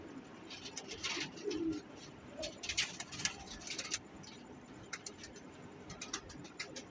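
A pigeon of a crossbred type coos softly amid scattered bird calls, wing rustles and pattering in a bird market or loft, fairly faint with a busy background and no speech.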